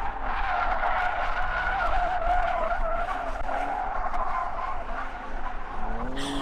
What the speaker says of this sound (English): That is a drift car behind me.